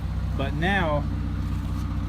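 Mazda Miata engine idling steadily with a low, even rumble throughout, while someone speaks briefly over it.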